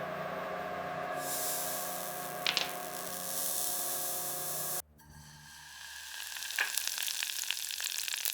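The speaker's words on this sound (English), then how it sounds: "Time for the searing step. Make sure they're cut side down to get that perfect caramelization." Beef bites sear cut side down in generous unsalted butter, a loud continuous sizzle close by. It cuts out abruptly and resumes as a sharper crackling fry with spitting pops.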